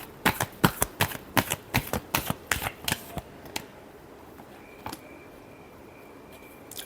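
Tarot cards being shuffled by hand, a quick run of crisp riffling snaps over about three seconds, then a few scattered taps and quiet, close and clear with no talking.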